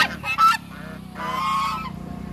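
Ducks or geese at a pond honk loudly and close by, a couple of short nasal calls followed by one long drawn-out honk.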